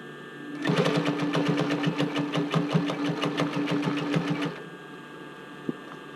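A sewing machine stitches a swimsuit top band onto a bra cup in one steady, rapid burst of needle strokes lasting about four seconds, close and moderately loud against quiet room tone.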